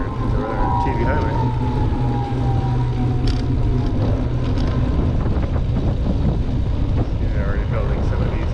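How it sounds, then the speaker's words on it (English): Wind buffets the camera microphone outdoors during a bike ride through a suburban neighborhood, a continuous loud low rumble with gusty surges that covers the whole stretch. "Oh, the wind is really picking up."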